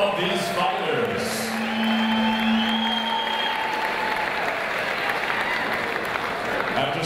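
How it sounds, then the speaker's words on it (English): A crowd at a boxing event at the Paramount applauds both fighters after a six-round bout, with steady, dense clapping and some cheering, a few tones and voices faintly mixed in throughout. "let's get a nice round of applause time for both of these fighters"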